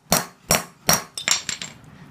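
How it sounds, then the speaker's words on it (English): Hammer blows striking a ring terminal to crimp it onto a wire, three sharp metallic taps followed by a quicker cluster of lighter ones, close and loud with no talking. "just you getting a hammer and tapping it"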